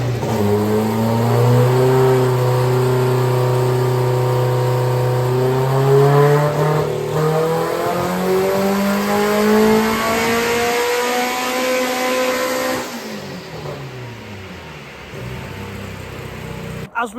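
Turbocharged Honda Civic engine running on methanol revs hard and loud, repeated climbing pulls rising in pitch, then dropping off near the end.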